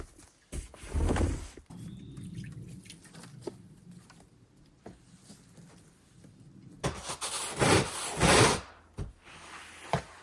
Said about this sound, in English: Now I need to scrub this thing. Get the grime off.